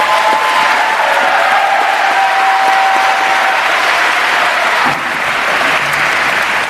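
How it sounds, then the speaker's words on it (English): A loud, continuous round of applause from the audience at a 2021 robotics awards ceremony, dense clapping from a crowd that holds steady and eases slightly near the end. "Please give them a big round of applause."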